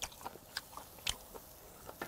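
Grilled beef tongue and intestine, charcoal-cooked, being chewed close up: a series of soft, irregular wet bites and crunchy chews, quiet overall with a few sharper spikes, no talking.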